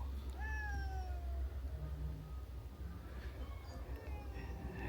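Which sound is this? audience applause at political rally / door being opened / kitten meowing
kitten meowing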